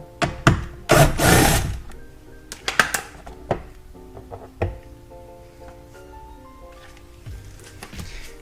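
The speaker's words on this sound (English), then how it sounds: "get out these 2 bottom bolts to start off, and those are 2 7mm screws" A tool removes two 7mm bottom bolts from a vehicle door panel, giving a series of sharp clicks, thunks and brief mechanical whirs with quieter pauses between them, close by.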